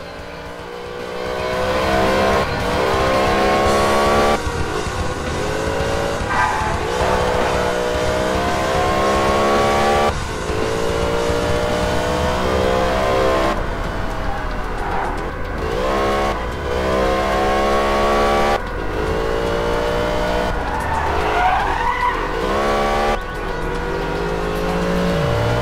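A police car chase in the Alarm für Cobra 11 video game, with loud, continuous engine roar rising and falling through revs and gear shifts, occasional tire squeals and cars racing close by, and no talking.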